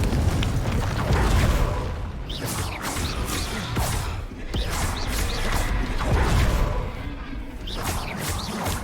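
In Hogwarts Legacy, Glacius and Confringo spells are cast in quick succession, producing a dense, loud wash of booms, crashes and whooshing magical bursts that swell and dip without pause.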